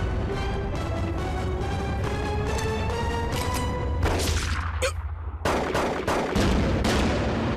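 Gunfire from an action scene in a TVB crime drama, a rapid volley of loud, sharp shots repeating densely with a brief pause and a whistling streak before the firing resumes, with no speech.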